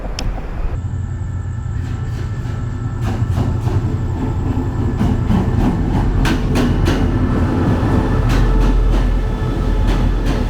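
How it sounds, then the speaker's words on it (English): A second-class sleeper train from Thailand to Malaysia rumbles along steadily with rhythmic clicking of wheels over the rails and occasional rattling bursts, loud and close from inside a carriage. "So we just boarded the train."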